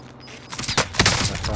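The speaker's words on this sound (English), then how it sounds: "I'm being shot from the fucking hills" Gunfire coming from the hills in Call of Duty Modern Warfare cracks out in a quick cluster of loud, sharp shots over busy in-game noise.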